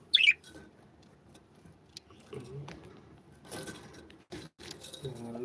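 Pet lovebirds give a single bright, sharp chirp right at the start, close by, followed by quieter rustling and a person talking.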